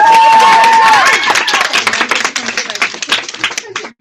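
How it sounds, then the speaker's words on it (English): Audience applause at a success-night event honoring a skincare class: a dense, busy patter of many hands clapping that swells and thins over a few seconds, with voices and a brief tone mixed in at the start. "We'll give a round of applause on our skincare class."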